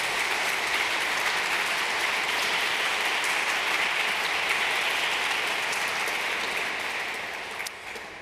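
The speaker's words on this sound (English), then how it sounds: "Please give a round of applause to Herbert Kort." An audience at a 2023 MAIS programme graduation ceremony claps for a guest, a dense, steady round of applause that tapers off at the end.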